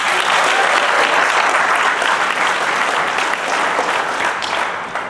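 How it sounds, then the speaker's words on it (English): An audience at the farewell speech of Gilad Erdan, Israel's ambassador to the UN, gives a sustained round of loud, dense applause that tapers slightly at the very end. "she deserves a round of applause"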